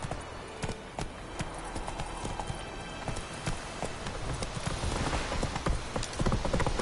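Horse hooves clip-clop at a steady gallop in The Witcher 3, a rapid loud drumming that continues throughout with a faint wash like rain behind it.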